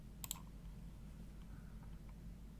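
A single quiet mouse click on a web link, one crisp tick near the start, then only a low room hum.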